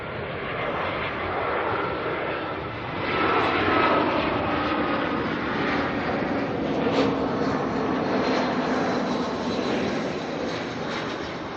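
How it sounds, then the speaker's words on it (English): Jetstar airliner arriving at Auckland Airport from the Gold Coast, a loud, steady jet engine roar with a broad rushing wash that swells slightly midway and holds throughout. "Let's grab this Jetstar that's coming in from the Gold Coast"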